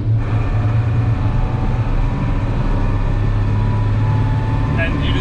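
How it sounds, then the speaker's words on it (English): Unimog turbo diesel engine running under way, a loud steady low rumble with a constant drone throughout, alone with no voices. "It's a turbo diesel."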